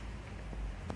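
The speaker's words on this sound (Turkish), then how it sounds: "O ölümcül yağmur hala yağıyor." Heavy rain pours steadily onto a surface, a dense continuous hiss close to the microphone with a few louder drop impacts, and no voices.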